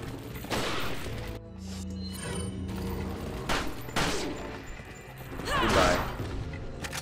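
Sniper rifle shots and mechanical handling noises in Resident Evil 4, several sharp loud reports spread across the stretch amid game sounds, with a voice talking over them.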